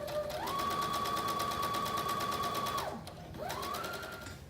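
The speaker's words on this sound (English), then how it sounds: "We're going to stay stitch from the bottom to the upper portion of the front bodice." A sewing machine runs a steady stay-stitching seam along the front bodice of a wrap dress, humming continuously for about two and a half seconds, pausing briefly, then starting up again.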